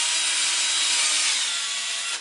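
A drill bores a starter hole through plywood for the frame of a model toy boat, giving one steady, loud grinding whir for about two seconds before it cuts off.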